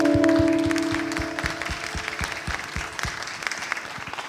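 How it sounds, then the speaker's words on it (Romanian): Audience applause at a tenth-anniversary celebration of the Cireșarii in Bucharest, loud at first and thinning to scattered claps, with a sustained tone underneath early on. "Acum e rândul nostru să vă aplaudăm pe voi."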